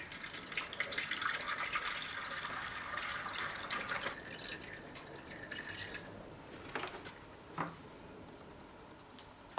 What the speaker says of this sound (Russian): Сейчас мы нальем в нее воды и посмотрим, как она себя поведет.